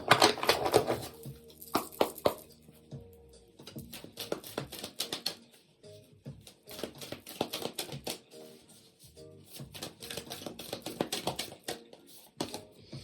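A Gods and Goddesses oracle card deck being shuffled, rapid papery riffles and slaps in irregular bursts, close and crisp with brief pauses between rounds.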